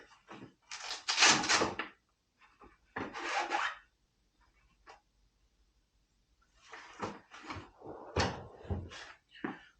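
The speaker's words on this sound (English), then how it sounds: "If I can find the drawer." Wooden drawer in a workshop pulled open and rummaged through for metal files, loud rubbing and scraping bursts with clattering pauses between, close to the listener.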